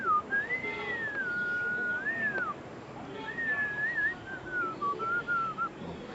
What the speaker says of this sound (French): je peux siffler aussi